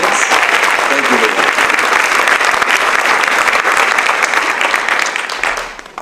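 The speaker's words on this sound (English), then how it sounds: "can we please give a nice round of applause to Leah Shell here tonight doing our photography and capturing these wonderful moments" An audience at a high school scholarship awards night applauds the event photographer, dense sustained clapping from a sizeable crowd that fades out over the last second.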